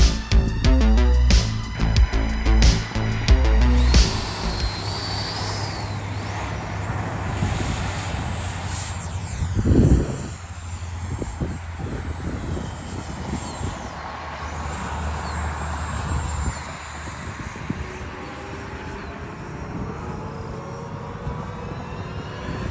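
FMS F-16 64mm EDF RC jet flying, a whine with a rising and falling whoosh as it passes, then fading into wind noise and a distant drone.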